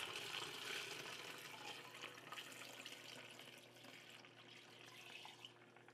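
Eggnog is poured through a strainer into a pitcher over a kitchen sink, a faint, continuous liquid splashing and trickling that tapers off near the end.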